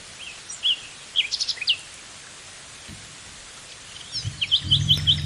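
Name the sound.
distant bird chirping in the woods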